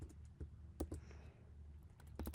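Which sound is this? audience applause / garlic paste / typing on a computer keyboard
typing on a computer keyboard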